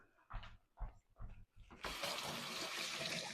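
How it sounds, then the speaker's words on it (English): Tap water runs into a kitchen sink for handwashing, starting after a few soft knocks and clatters and then gushing steadily and close. "Wash my hand."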